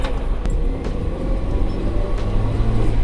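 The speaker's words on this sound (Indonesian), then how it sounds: "Wah, ini untuk tanjakan sih enak banget nih mobil" A 2003 Toyota Kijang Kapsul LSX climbs an incline with a continuous low engine rumble heard from inside the cabin, steady and fairly loud, broken by a few faint clicks.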